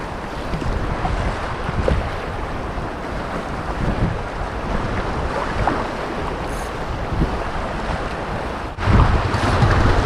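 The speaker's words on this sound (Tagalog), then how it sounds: "Ayun, may bangka mga kapaunos," A small bangka boat on the sea near the shore at Ternate, Cavite, heard within a steady wash of wind and surf that fills the whole stretch, with a louder gust near the end.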